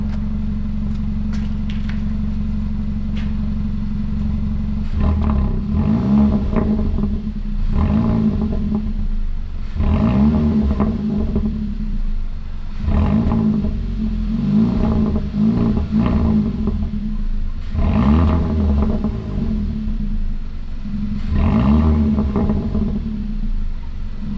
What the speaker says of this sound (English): I'm gonna press the gas pedal.